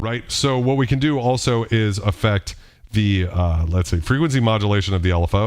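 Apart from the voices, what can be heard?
No everyday noise stands out behind the speech.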